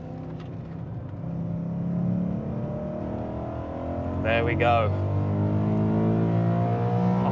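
BMW E92 M3 with valves open driven hard at the Nürburgring, a steady droning engine note that builds and holds, with a driver speaking briefly over it.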